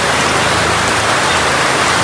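Heavy rain pours steadily, a dense loud hiss of drops drumming on a surface with no pauses.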